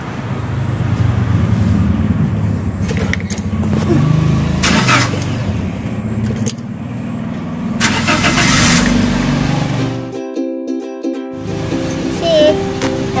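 A car engine cranks and starts to warm up, with a few sharp mechanical bursts before it settles into a steady idle rumble, close and loud.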